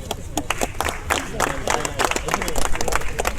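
A gathered crowd at a corporate celebration in Kadapa, marking the handover of a Mahindra Thar, claps briskly and loudly in close, uneven bursts, with voices murmuring underneath.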